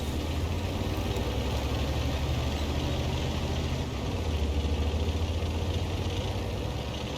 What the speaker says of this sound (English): now we've got engine noise